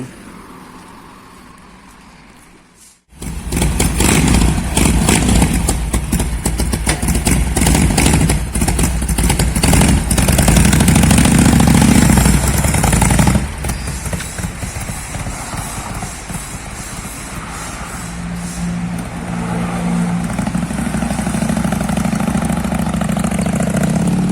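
A 2019 Harley-Davidson 1200 Custom with opened stock exhaust and a Fuelpak 3 tune bursts into a loud, close idle after a quiet start, swells with heavier throttle midway, then settles into a steady rumbling idle.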